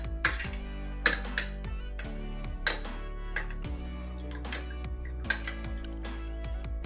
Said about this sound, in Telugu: ఇలా తీసుకొని ఉండలేమి లేకుండా కలుపుకొని పెట్టుకోవాలి